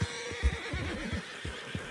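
Horses neigh and whinny in Red Dead Redemption 2, several close, loud calls in quick succession over a low rumble, with faint hoof clops mixed in.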